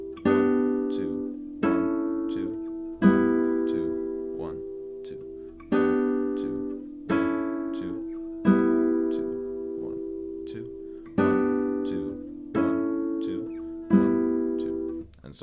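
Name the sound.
guitar chord progression played, song practice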